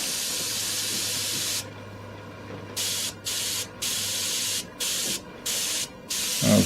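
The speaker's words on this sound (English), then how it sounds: "he adjusts his airbrush for about 30 to 40 pounds" An airbrush set to roughly 30 pounds of pressure sprays paint onto a model ship, a steady close hiss that runs continuously, then drops to a quieter pause before returning as several short bursts of spraying.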